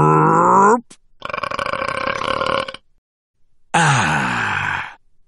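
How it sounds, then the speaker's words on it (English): A long, loud, deep belch rings out, then a rough guttural grunt-like stretch after a pause, and a second drawn-out burp that falls in pitch, all alone with no talk. "Burp."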